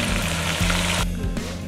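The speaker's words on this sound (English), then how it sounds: "Sizzle, sizzle. Sizzling." Steady, loud sizzling and crackling of red chili ingredients frying in a pot, continuous throughout with no voices.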